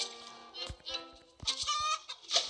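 Clucking chickens in a Roblox chicken simulator game, a few short clucks and squawks spread across the moment, fairly close and clear with no talk over them.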